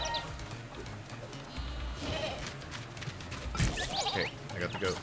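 A goat bleats several times in the video game Moving Out 2, wavering cries among busy game sounds with hoof clatter, while players talk over it.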